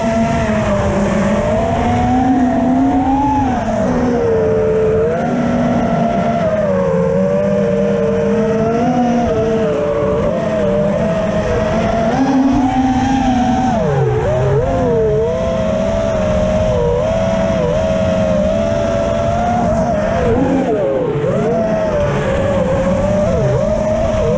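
Drift cars in a semi-pro league practice session at Molėtai, engines droning and revving continuously with wavering pitch, tires squealing underneath, loud and close throughout with no voices.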